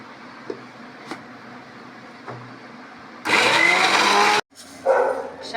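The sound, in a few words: mixer grinder grinding fried pumpkin for chutney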